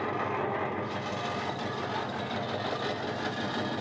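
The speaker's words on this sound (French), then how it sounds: "On va faire un petit tour derrière pour te faire écouter les échappements" A 1966 Chevrolet Chevelle SS396 with a 4-speed idles steadily on a hot day, its exhaust giving a continuous deep, rough rumble at close range with no talking.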